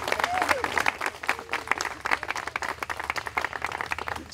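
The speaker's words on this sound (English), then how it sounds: "And a big round of applause to the CVB." Audience applause at a community event gathering, dense clapping from a crowd that rises and falls over a few seconds, fairly close and steady with a faint voice in the background.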